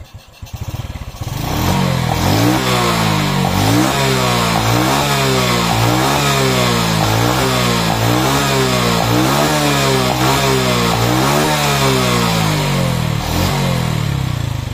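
Engine of a Honda Revo motorcycle converted to a carburetor with a Shogun CDI starts up and revs in repeated rising, falling sweeps. The sound is loud and close, with no talking.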